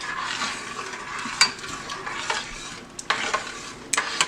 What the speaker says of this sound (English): Go ahead and stir that in there.